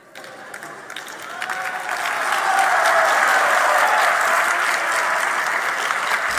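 Sustained applause fills a legislative session hall, many hands clapping in a dense wash that swells over the first seconds and then holds steady, with no speech.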